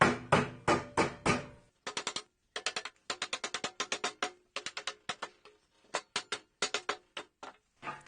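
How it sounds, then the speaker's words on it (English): Wooden furniture parts tapped together during assembly: sharp, close knocks in quick irregular clusters, some louder strikes at first, then lighter rapid taps with short pauses, no talking. "So I have to tap a little, and then tap the sides in,"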